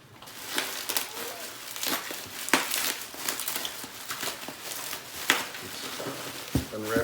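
Crinkling of bubble wrap and plastic packaging being pulled off aquarium rock, irregular rustles and sharp crackles close by, with bits of talking mixed in.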